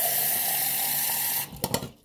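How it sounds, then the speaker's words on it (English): Hot water gushes steadily from a tap into a tub for about a second and a half, then stops, followed by a few splashes and drips. "So I filled up a little more hot water."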